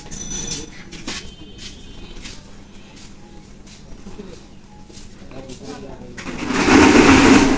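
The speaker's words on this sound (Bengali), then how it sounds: "এই এক মাপে আমি সেলাই করে নেওয়ার চেষ্টা করতেছি।" Sewing machine stitching palazzo trousers, its rapid mechanical whir running in short bursts while someone talks over it, ending in a louder rush of noise.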